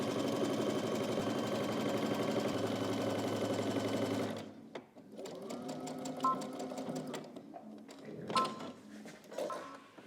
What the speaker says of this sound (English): we're just going to head to the machine, and we're just going to start on one end and stitch all the way through the crotch to the other end